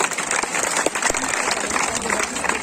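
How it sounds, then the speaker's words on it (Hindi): A crowd at a speech claps steadily in sustained applause, a dense wash of hand claps with faint voices mixed in. "जोरदार तालियां बजनी चाहिए।"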